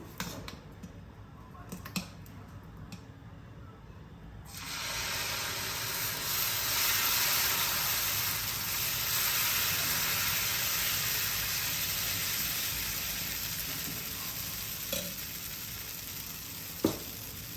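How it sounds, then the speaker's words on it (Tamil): Dosa batter poured onto a hot oiled pan for a South Indian paper roast, breaking into a loud, steady close-up sizzle that swells after a few quiet seconds and holds, with a few small clicks from the pan. "இப்போ நம்ம தோசை ஊற்ற போகிறோம்."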